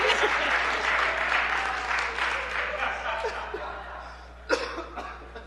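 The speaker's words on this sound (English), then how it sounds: "There was clapping." Audience clapping at a 2012 church congregational meeting, a steady patter of many hands that fades toward the end, with a few coughs and a short burst of sound near the close.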